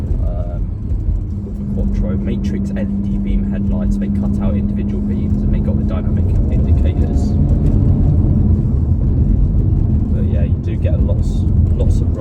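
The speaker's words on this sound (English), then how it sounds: "6-speed cracks and pops. You can hear the turbo flutter a little bit" A 2018 Audi RS5 2.9 V6 TFSI Quattro coupé on a pre-GPF RS exhaust runs steadily with a loud, droning engine note, crackle and faint turbo flutter over it, and someone talks throughout.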